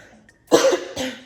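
Two sharp, close coughs, the first harsh and strong, the second lighter a moment later, following a brief quiet.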